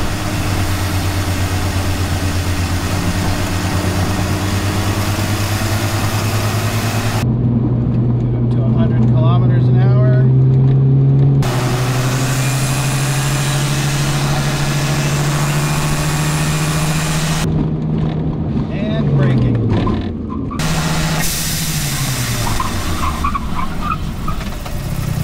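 Mazda RX-7 FC3S with restored brakes cruising down a road, its engine drone loud and steady with shifting pitch, gear changes and a brief tire squeal near the end.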